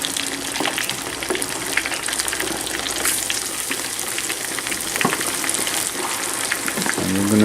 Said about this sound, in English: Carefully put it into the oil.